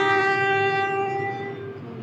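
A Class 357 electric multiple unit on a Stepford Connect service in the Roblox game Stepford County Railway, giving a steady, close tonal drone with a hum beneath it that eases slightly toward the end, with no talk.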